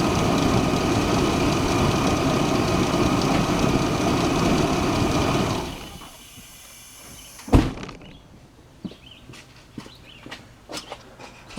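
A Chevy Blazer engine with four-wheel-drive trouble idles in a steady rumble for about six seconds, then shuts off, leaving near quiet broken by a sharp knock and scattered small clicks.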